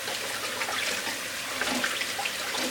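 Steady rushing of running tap water splashing over beef tripe in a sink, continuous and close, with small wet clatters throughout.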